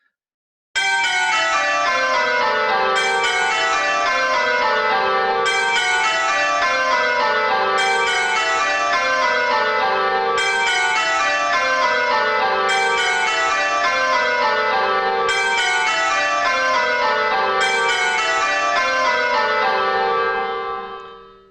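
A ring of eight church bells, simulated in Abel software with a bright, shrill tone, rings down repeating descending rounds in a steady, evenly spaced rhythm, loud and alone for about twenty seconds.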